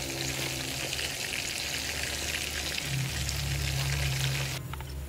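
Pork frying in oil until golden brown and crispy, a steady dense sizzle and crackle close by with no voices, continuous for the whole stretch and thinning a little near the end.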